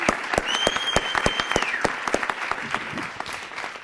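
A city council chamber audience applauds a pipe and drum band with distinct, fairly close handclaps that thin out toward the end, while a sustained whistle or pipe-like tone sounds briefly in the middle.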